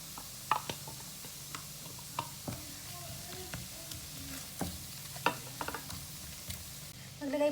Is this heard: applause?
no